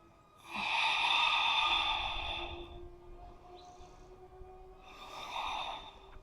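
Deep breathing during a yoga hip-opener flow for splits prep: a long, loud exhale through the nose lasting about two seconds, then a pause and a second, softer breath, close up with no talking.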